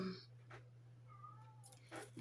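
An indoor cat meows a few times in short, fairly quiet calls, with soft room noise and a low steady hum underneath.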